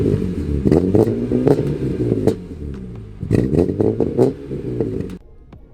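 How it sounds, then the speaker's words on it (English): BMW E46 M3 convertible engine blipped in short revs: two bursts of rising growl, each followed by a dip back to a lumpy idle, loud and close. "I do apologize for the baby revs."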